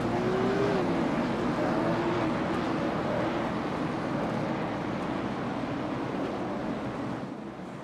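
Race cars accelerating at the green flag at Thompson Speedway, a loud continuous engine roar that holds steady and then eases off slightly at the end.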